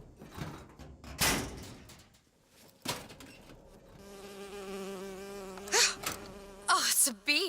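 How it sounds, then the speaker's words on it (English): A bee buzzes near the listener in the BioShock Infinite video game, a steady droning hum that swells and wavers over several seconds, with brief bursts of other game noise before and after. "Oh, it's a bee. I hate these things."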